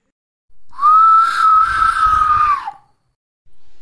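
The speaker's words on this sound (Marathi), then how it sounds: "काय शिट्टी मारली वगैरे ते बाईले पाहून" A sustained, steady whistle from an audience member at a tamasha folk theatre performance, loud and close, lasting about two seconds before dropping off, with brief noise after it.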